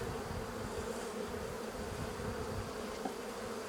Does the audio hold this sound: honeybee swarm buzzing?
yes